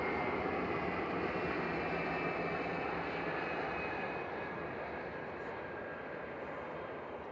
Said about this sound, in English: Logan Air Flight 27 from Aberdeen, GSA JH just rolling out here